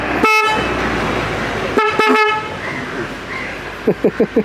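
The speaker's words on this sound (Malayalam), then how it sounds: "പഴയ ഹോണിന് ഭയങ്കര പവറാട്ടോ" Loud, harmonic old Maruti Zen car horn blasts: one long toot, a pause, then a double honk, followed by four short quick beeps at the end.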